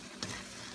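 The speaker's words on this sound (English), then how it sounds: "So we're gonna give it a good stir." Lechon Kare Kare being stirred in a pot, a single brief scraping sweep heard up close with no talking.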